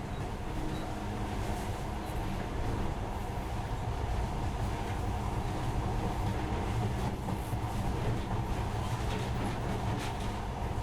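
Monorail train running in the video game Metro Last Light Redux, a steady rolling rumble and rattle that holds unbroken and fairly loud, no talking.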